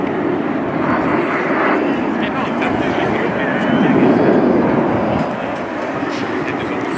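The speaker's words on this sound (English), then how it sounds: "aircraft is now positioning side by side in 3 lines, drawing this giant inverted triangle" Frecce Tricolori aerobatic jets fly in formation at the RIAT 2018 airshow, making a steady, loud roar that swells slightly, then eases off. A commentator talks over it.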